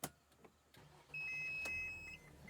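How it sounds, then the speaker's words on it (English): A Mercedes Sprinter van engine cranks and catches with a sudden jump in steady running noise, preceded by a few faint clicks and accompanied by a thin electronic beep tone, heard quietly from inside the cab. "I'm gonna start the engine."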